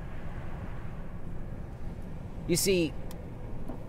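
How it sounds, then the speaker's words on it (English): Low steady road and engine rumble from inside a moving car on the way to work, constant and droning, with a voice briefly speaking over it. "as I sit here in my car driving to work"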